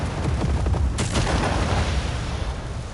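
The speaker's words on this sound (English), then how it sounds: "you don't want to stand too close when they explode" Explosions in Just Cause 4 produce rumbling booms and crackling blasts, loud and dense, with several overlapping detonations in quick succession.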